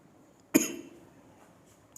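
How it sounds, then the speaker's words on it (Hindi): A single sharp cough from a chemistry teacher during a lecture, close and brief, followed by a faint short breath in a quiet room. "खांसी आ गई थोड़ा"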